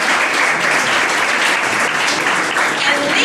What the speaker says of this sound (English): Big round of applause, please, for the Cape Port Center for Social Impact.